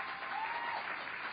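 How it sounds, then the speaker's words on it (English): An awards gala audience applauds steadily in a dense wash of clapping, fairly distant and even throughout, with no voices over it. "Let's give Sarah's mother a round of applause."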